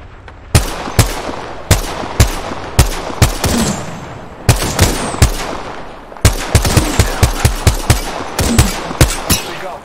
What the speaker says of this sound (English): I'm gonna take shots.